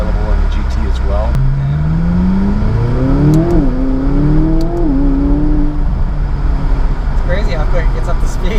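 A 2017 McLaren 570GT with a twin-turbo engine accelerates hard, its loud engine note climbing steadily in pitch through two gear changes over several seconds amid steady road and wind noise, with talk faintly underneath.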